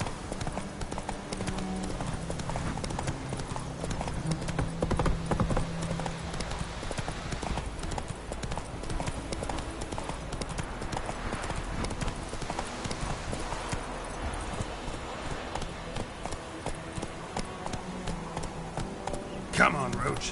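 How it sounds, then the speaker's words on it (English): Video game horse galloping with steady rhythmic hoof clip-clops throughout, under music and a man's occasional calls, with a brief whinny near the end. "Run, Roach."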